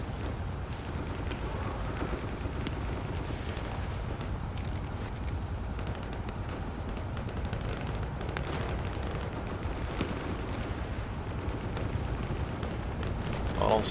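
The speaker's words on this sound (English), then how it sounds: "I'm getting shot at." Distant and mid-range gunfire crackles through a battle in the Vietnam-era shooter Hell Let Loose, irregular shots and bursts scattered over a constant rumbling combat bed, with a voice talking at times.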